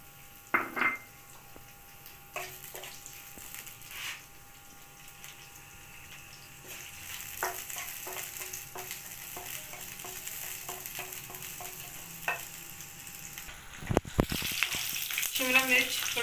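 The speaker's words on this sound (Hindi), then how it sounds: "शिमला मिर्च थोड़े से हमने फ्राई कर ली है" Bell pepper cubes fry in cooking oil in a kadai for chicken jalfrezi, a low steady sizzle punctuated by spatula taps and scrapes against the pan, growing louder near the end.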